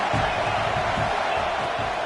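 Football stadium crowd noise swells as a broad, continuous roar with rhythmic surges, sitting under a commentator's voice throughout.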